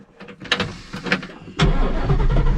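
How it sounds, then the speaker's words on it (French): A Ford Mustang GT500 Eleanor cranks with a few short throttle blips, then catches and settles into a loud, steady idle close by. "on va démarrer, on va mettre des petits coups de gaz pour qu'elle parte"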